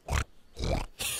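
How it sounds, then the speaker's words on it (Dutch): Three short, close farm pig grunts, the last one higher and squealier, each separated by brief pauses with no talk. "Dat was mijn eigen lieve varkentje, Sebastiaan."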